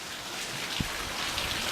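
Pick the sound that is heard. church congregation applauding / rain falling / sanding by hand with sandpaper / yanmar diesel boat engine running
rain falling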